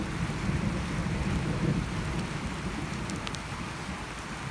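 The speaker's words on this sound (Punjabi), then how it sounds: "ਬੱਦਲ ਹੋ ਗਿਆ ਤੇ ਨਾਲ ਹੀ ਕਣੀਆਂ ਲੱਥ ਗਈਆਂ" Rain pours from clouds in a rural village setting, a dense steady rush with a low rumble underneath, continuous and fairly loud, with no voices.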